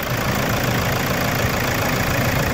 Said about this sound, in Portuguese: Olha o motor como é que ficou. Sereno.